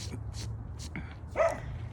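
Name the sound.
dogs barking in a backyard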